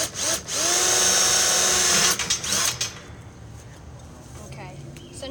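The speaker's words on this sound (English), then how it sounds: "now he's going to get a drill, and he's going to drill in the screws" A power drill driving screws into metal tubing for a control box installation whirs loudly for about two seconds, then a few short bursts follow before things quiet down to low background noise.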